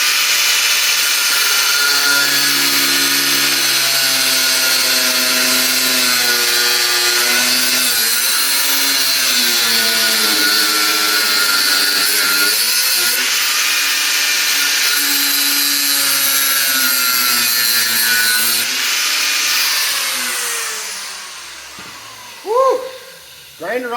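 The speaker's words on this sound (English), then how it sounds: "First, I'm just going to cut the head of the bolt off." A loud angle grinder, guard removed, cuts steadily through a bolt head on a Polaris Triple XLT race sled with a continuous high whine and shifting pitch, then winds down near the end with a couple of clunks.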